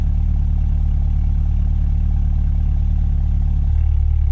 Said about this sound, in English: Switch it to race mode real quick so I can hear the exhaust tone.